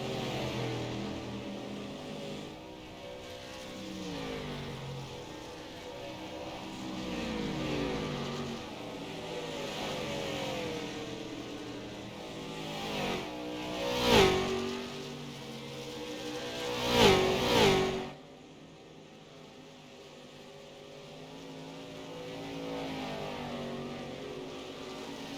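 Dirt late model race cars in a heat race at USA International Speedway, engines droning and revving as they circle the dirt track, swelling louder as cars pass close, then fading to a distant hum.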